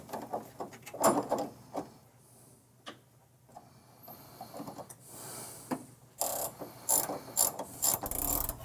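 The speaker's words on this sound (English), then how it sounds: "you just tighten it down until you have thrust contact, and then 1/8 of a turn" A ratchet wrench clicks in repeated bursts while tightening the leaf spring shackle bolt of a CAT-5 reverse eye leaf spring on a 1970-1981 Camaro or Firebird, close and fairly loud with short pauses between strokes.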